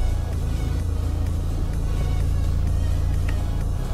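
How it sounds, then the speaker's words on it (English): A BMW car engine running right after start-up, a close, loud, steady low rumble with an even idle throb and no speech over it. "So we'll start the car up and we'll see if that changes or whether that problem continues."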